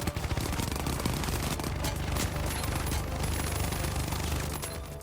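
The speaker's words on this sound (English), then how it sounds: "for heavy, we get the king of all guns, the M134 minigun." M134 minigun in the video game The Finals firing one long, dense, rapid stream of shots that stays loud and close throughout and tails off slightly at the end.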